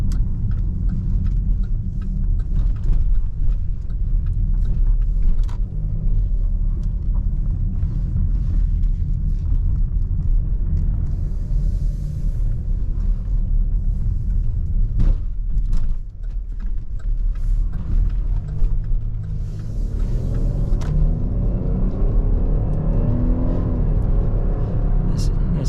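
A 2019 Chevrolet Blazer RS FWD SUV driving and turning around in a parking lot, with a steady low road rumble and engine drone throughout and a brief shift in tone near the end.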